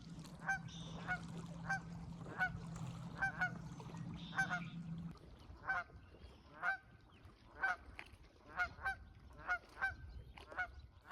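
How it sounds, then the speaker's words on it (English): Geese honk repeatedly in a regular series of loud calls, fairly close, with a low engine-like drone under the first half. "I was rewarded with a nesting pair of Canada geese"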